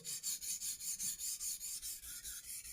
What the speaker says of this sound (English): let's sharpen the straight part of it, which I mean this one, until we have a burr